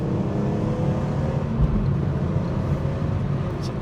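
A BMW E46 M3 coupe with the SMG II gearbox accelerating hard, its engine a dense, steady roar from inside the car with a brief dip and surge marking a quick gear change midway.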